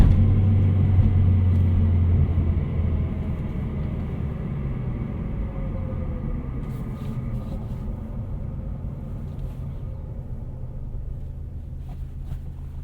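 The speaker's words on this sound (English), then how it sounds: "those rumbling sounds from either, like I said, a wheel bearing or maybe even the throwout bearing for the transmission" Low, steady rumble inside a turbocharged 2008 Chevrolet Cobalt SS while driving, blamed on a wheel bearing or transmission throwout bearing; a continuous droning roar that eases slightly after the first couple of seconds, with no talk over it.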